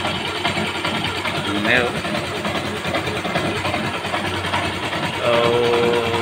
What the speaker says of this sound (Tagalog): pag ganire ang tunog ng inyong motor, parang may umaalun-alun ba? Ito, malamang sa malamang bearing sira.